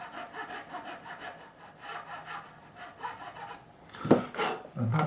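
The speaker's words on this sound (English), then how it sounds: "is how you cut the nut slots on a new nut" A file rasps back and forth in short, soft strokes, cutting string slots into a new guitar nut on a PRS SE 24 Custom, quiet and close, with a few louder scrapes at the end.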